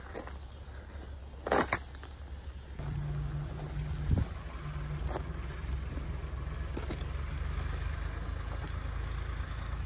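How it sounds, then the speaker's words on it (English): A low, steady tractor engine drone rumbles in the distance under wind and outdoor noise, with a couple of brief knocks early on. "I can hear the sounds of a machine working."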